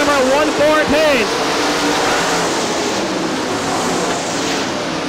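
Super late model race cars roar past on the Crystal Motor Speedway oval in Michigan, a loud, continuous wash of engine noise. A race commentator talks over the start.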